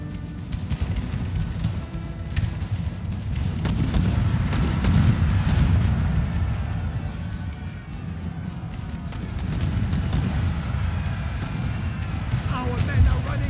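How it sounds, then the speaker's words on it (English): Artillery fire striking grenadier ranks in a Napoleonic battle game, France against Russia in northern Italy, comes as a continuous dense rumble of booms and distant gunfire. It stays loud and steady throughout, with talk over it. "They're hit by some artillery or something."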